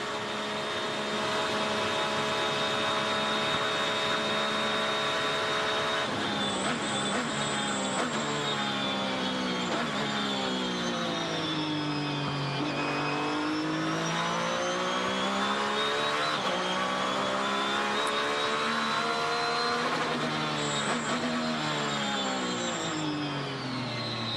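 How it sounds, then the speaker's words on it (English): Onboard the No. 23 Ruby Tuesday sports car at the 2007 Rolex 24 at Daytona, the engine drones loudly and steadily, its pitch swooping up and down through shifts and corners with no talk. "On board with the 23 Ruby Tuesday car."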